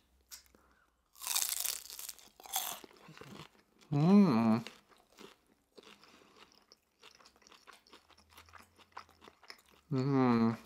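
Crunchy bites into a fried spring roll during a pad thai mukbang, several loud crisp crunches close to the mic, with short vocal sounds and chewing between bites.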